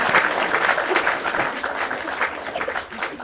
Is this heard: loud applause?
yes